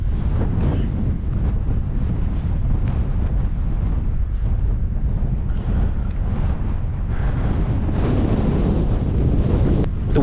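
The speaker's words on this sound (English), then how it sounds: "The wind up there is bloody horrendous." Strong, stormy wind batters the outside of a camper van at night on an exposed hilltop, a loud, continuous roaring rush with gusty buffeting and no letup.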